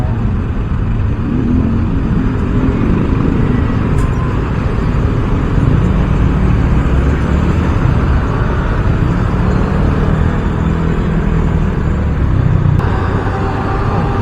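Street traffic in the Philippines forms a steady, loud roar of passing vehicles and engine rumble that fills the whole stretch without a break, with faint clicks over it.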